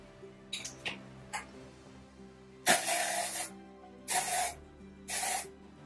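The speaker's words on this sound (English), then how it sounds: "spray in some Batiste dry shampoo" A few faint clicks and rattles, then three bursts of Batiste dry shampoo aerosol spray hissing close by, each lasting about a second.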